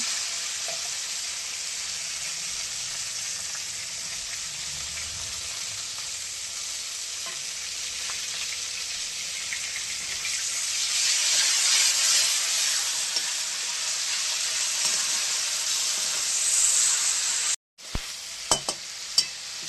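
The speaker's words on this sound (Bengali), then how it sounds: "আগে টমেটোটা তেলের মধ্যে দিয়ে দিচ্ছি" Tomato hits hot oil in a pan and sizzles steadily, a loud continuous frying hiss that swells midway and cuts off abruptly near the end.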